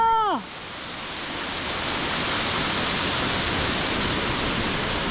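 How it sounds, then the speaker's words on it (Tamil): Sathodi Falls, a waterfall near Hubli, roars as a steady broadband wash of falling water, close and loud, after a brief whistled or sung note at the very start. "நான் ஃபால்ஸ் பேருனா இதுதான் சாத்தோடி ஃபால்ஸ்"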